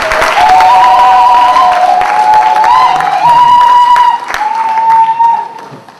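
A church congregation applauds and acclaims loudly and continuously, with a sustained sung or shouted tone over dense clapping that fades near the end.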